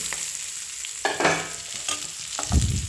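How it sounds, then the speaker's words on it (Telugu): Bitter gourd frying in hot oil while being stirred, with soft sizzling throughout and a few scraping stirs from a spatula, the loudest near the end. "ఇప్పుడు కాకరకాయ వేసేయాలి మనం."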